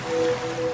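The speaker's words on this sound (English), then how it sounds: "now you're drifting asleep to the scent and sound of waves." Ocean waves used as a sound effect in a radio advertisement, a brief, soft, steady wash of surf with a faint tonal hum running through it.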